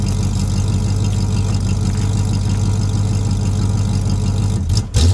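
A Ford AU XR8 V8 with a leaking, failed exhaust system rumbles close by in a deep, steady, loud drone that barely changes, then briefly cuts and stutters near the end.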